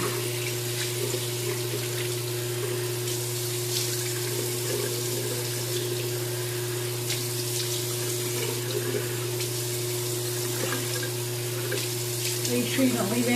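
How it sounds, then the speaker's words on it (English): Tap water runs steadily into a bathroom sink while a face is rinsed, a constant hiss and splash with a low hum beneath, fairly close and unbroken throughout. "And I'm going to rinse."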